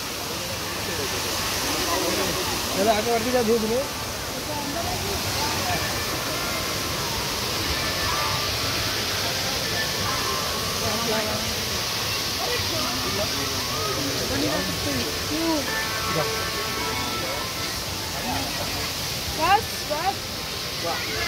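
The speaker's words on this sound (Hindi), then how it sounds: "देखो खाली वाटरफॉल" Steady broadband rush of a waterfall in a busy Mumbai park, lit up at night, continuous and fairly loud throughout, with voices and crowd chatter mixed in on top of the falling water.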